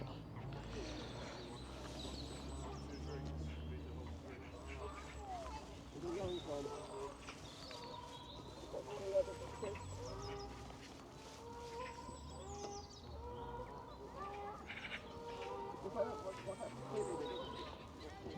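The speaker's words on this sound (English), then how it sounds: "These are some of the birds you may see at this park." Fowl cluck and call at a riverside park, scattered through the scene as a person talks over them throughout, with the birds mostly mid-distance and moderate in volume.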